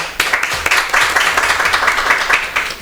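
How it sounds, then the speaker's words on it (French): An audience applauds the ISTC team for winning two points in a contest against Université FHB, a dense burst of clapping that lasts throughout at steady loudness. "Et ça s'applaudit quand même."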